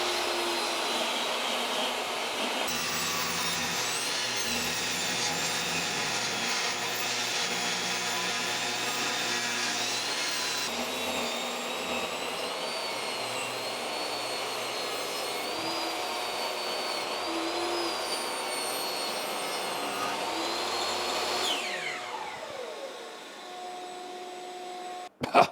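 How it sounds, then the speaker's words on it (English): A small Ryobi bandsaw rips a slab of live edge wood in one pass, a loud steady whine and rasp running without break, then the blade spins down and quiets near the end. "And then I'll go to the bandsaw, cut it this way."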